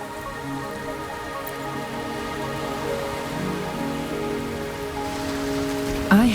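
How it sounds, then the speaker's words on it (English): Steady rain falls on surfaces in Wuthering Waves, a continuous, even patter with a faint musical tone beneath and a brief louder swell at the very end. "Are you trapped here by the rain?"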